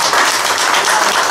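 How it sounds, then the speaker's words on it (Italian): Applause from an audience at a gathering in Casarano, a dense burst of many hands clapping loudly and close, filling the short moment without talk. "Teo, un applauso a te, un applauso"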